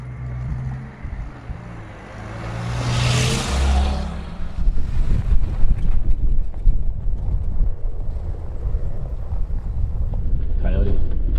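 Strong, gusting wind buffets the microphone in an open outdoor spot, rising into heavy rumbling roar and staying loud to the end.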